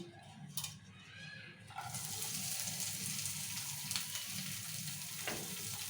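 Green chillies crackle and sizzle in hot oil for an okra fry, a faint start that swells into a steady, dense frying hiss with occasional soft pops, no voices.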